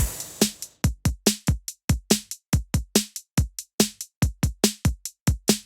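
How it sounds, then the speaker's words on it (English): A full drum kit beat programmed in Pro Tools, with kick, snare, small EQ'd hi-hats and a cymbal on the one, looping in a steady, tight groove of dense, close hits throughout with no voices. "The whole kit sounds like this."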